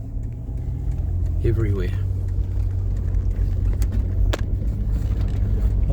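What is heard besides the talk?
road traffic of many vehicles during Cyclone Gabriel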